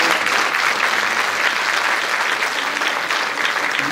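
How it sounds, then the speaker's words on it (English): A room full of people applauds, a loud, dense and uniform roar of clapping that holds steady for the whole stretch with no pauses. "if you can give them a warm round of applause"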